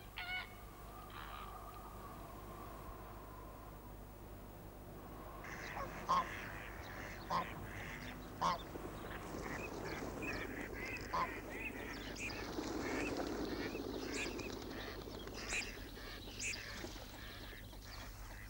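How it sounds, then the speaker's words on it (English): Ducks in a coastal wetland give scattered quacks and short calls at a moderate distance over a soft, continuous outdoor background, with a few louder single calls standing out and a brief murmur of other birds. "The most varied and abundant family of birds which live in this medium is the duck family."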